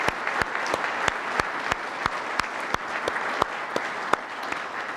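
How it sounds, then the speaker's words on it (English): An audience at the U.S. Naval Institute annual meeting applauds award winners, with sustained clapping from a sizeable crowd and a few sharp, prominent claps standing out near the front. "Please join me in a final round of applause for all of those winners"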